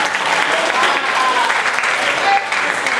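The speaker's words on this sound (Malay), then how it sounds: "berikan tepukan kepada mereka sekali lagi" An audience at the Pesta Pantun 2014 final applauds loudly in a dense, continuous burst of clapping that lasts the whole moment.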